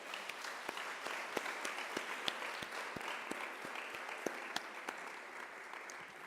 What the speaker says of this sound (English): So let's give them a wry round of applause.